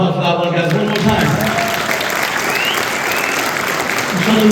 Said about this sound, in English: I just want a loud round of applause for that one, guys.